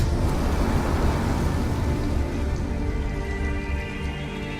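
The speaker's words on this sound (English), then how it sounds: "it's pouring rain" Heavy pouring rain in the video game Detroit: Become Human, a steady dense hiss of downpour that holds constant and loud throughout, with no voices.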